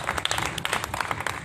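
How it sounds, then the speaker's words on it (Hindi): Audience applause at a Hindi poetry recital, a short burst of dense, fast, irregular clapping from a crowd, fairly close and loud, with no speech over it. "जोरदार तालियां हो"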